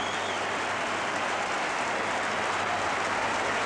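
A football crowd of nearly 20,000 at Carrow Road cheers and applauds Norwich City as the team comes out, a dense, steady roar of far-off clapping and noise that fills the whole stretch.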